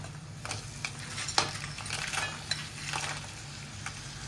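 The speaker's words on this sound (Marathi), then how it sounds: "आणि यांना आता आपण चांगलं तेलावरती ना परतवून घ्यायचे आहे." Small crabs sauté in hot oil with tomato masala over a high flame, giving a steady sizzle with scattered scraping and clinking of a utensil against the pan, close and moderately loud with no talk.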